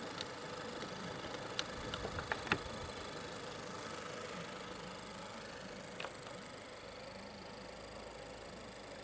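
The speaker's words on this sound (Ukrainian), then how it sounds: "Двигун працює дуже тихенько." The 1.2-litre engine of a 2016 Renault Scenic idles quietly with a low, even hum, broken by a few faint clicks and taps nearby; no one speaks.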